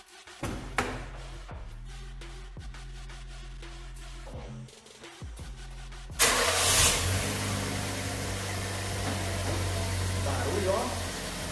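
A car engine runs steadily with a noisy alternator belt, a sharp engine start around midway that raises the level, then a constant loud running drone; faint voices appear under the engine noise.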